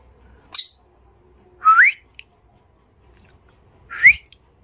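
A kingfisher calls inside a house: three sharp, rising whistled notes spaced a second or two apart, close and clear over near silence.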